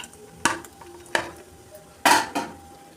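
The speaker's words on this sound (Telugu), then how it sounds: "బెండకాయ ఫ్రై చేసుకున్నాం కదండి ఇది ఇందులోకి వేసుకుందాం" Fried okra tipped into a pan and stirred in with green chillies, giving a few separate metallic scrapes and clinks of a spoon against the pan, close and fairly clear.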